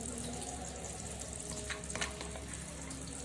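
Pointed gourds fry in a pan with a steady, even sizzle that holds the whole time, broken by a few brief clinks and scrapes near the middle.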